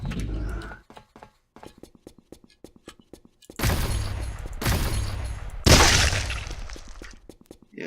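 Gunfire in the video game Subterrain: after a stretch of scattered clicks and ticks, loud blasts of dense, crackling shots erupt in rapid bursts, harsh and noisy, with no voices over them.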